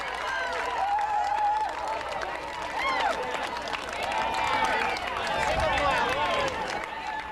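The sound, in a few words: crowd applauding marathon runners at the finish line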